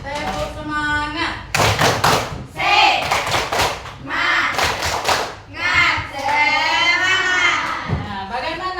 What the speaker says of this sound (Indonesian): kalau gitu tepuk semangat dulu.